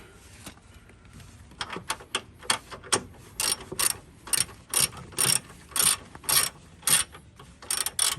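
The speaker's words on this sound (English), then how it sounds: "So now let's remove the E20 bolt." A hand ratchet clicks rapidly while loosening an E20 Torx bolt on a truck, first in light quick ticks and then in strong, regular bursts of ratcheting strokes, close up and alone.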